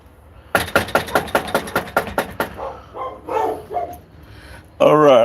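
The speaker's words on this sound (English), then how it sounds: "All right, I hear dogs." Dogs bark inside a house during a police visit to the front door. A rapid run of sharp, evenly spaced barks is followed by softer, broken yips, and a voice speaks at the end.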